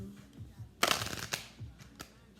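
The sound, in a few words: shuffling tarot cards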